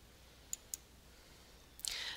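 Two quick, faint clicks of a computer mouse in a quiet room, followed by a brighter burst of sound.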